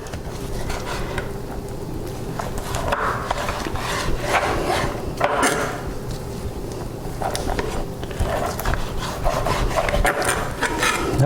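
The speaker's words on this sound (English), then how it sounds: "we're going to trim a little bit more of the fat off of this one" A knife trims fat from a slab of pork ribs for barbecue, giving a steady close rasping, rubbing cut with repeated scraping strokes against a wooden board, no talk.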